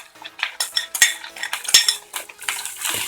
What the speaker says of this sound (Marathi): त्याला थोडं हलवून घेऊया आपण आता